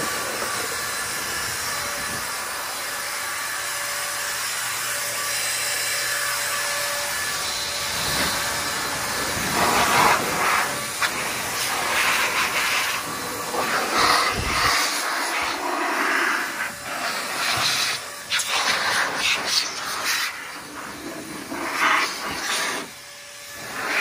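An Air Force Blaster SideKick air dryer blows loudly and steadily. Its whooshing rush of air swells and dips in strength, with a brief drop partway through before it surges again.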